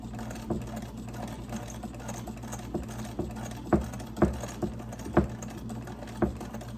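A cleaned treadle sewing machine turned by hand crank runs alone, giving a steady low mechanical hum with soft, irregular clicks and knocks from the mechanism over several seconds.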